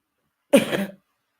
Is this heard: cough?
yes